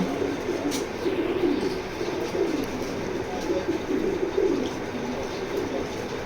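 A black racing pigeon from a club race coos in low, rolling phrases that rise and fall over a steady background hiss, nearby and moderately loud, with no voices.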